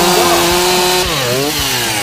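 A chainsaw cuts through oak firewood at a firewood factory in Gapyeong, Gyeonggi Province, a loud steady engine whine whose pitch dips and rises as the chain bites into the wood, close and continuous.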